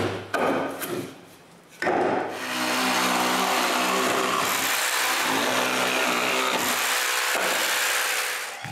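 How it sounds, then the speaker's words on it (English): Wood being rasped or sawn away from a pair of wooden coat rack molds, a steady, loud scraping that runs nearly continuously after a brief pause, with no talking. "To be able to clamp the strips, I need to remove wood on both molds."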